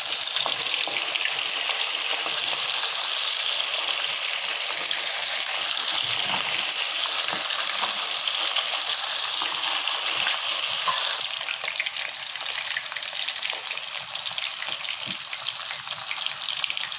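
Chicken fries in hot oil with a loud, dense, continuous sizzle and crackle that runs steadily without pause, easing slightly partway through.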